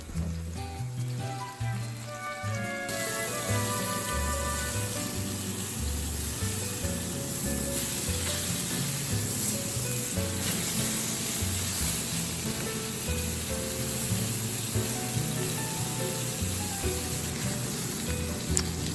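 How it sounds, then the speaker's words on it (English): Pork chops sear in a hot pan, two at a time, a dense continuous sizzle that swells after a quiet opening and holds steady and close, partly under background music, with no talking. "sear the pork chops about 4 to 5 minutes on each side or until cooked through"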